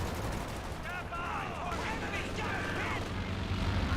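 Strafing-run gunfire in the World War II strategy game Company of Heroes 2, rapid bursts of shots and booms under a continuous battle din, with whistling streaks of aircraft passing through the mix.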